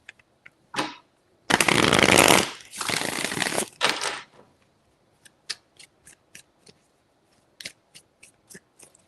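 Tarot cards shuffled by hand: a few quick riffles, then two long, loud bursts of fluttering card noise, followed by a scatter of sharp single taps and snaps as the deck is squared and cards are laid down, close and alone.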